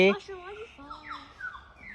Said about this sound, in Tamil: அது குருவிகளோட குயில் கேட்குது பாரு